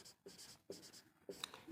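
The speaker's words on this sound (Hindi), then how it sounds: "यहाँ पे लिखेंगे, हल लिखेंगे" Pen strokes on paper as a math solution is written by hand, three bursts of scratching separated by short pauses, close and fairly quiet with no talk over it.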